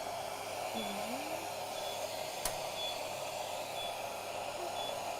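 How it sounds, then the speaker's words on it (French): A vacuum cleaner's motor whirs steadily while faint, high electronic beeps repeat about once a second. "l'aspirateur qui fait du bip."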